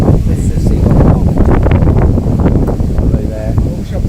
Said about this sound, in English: It is a bit windy, so you're going to get a bit of wind.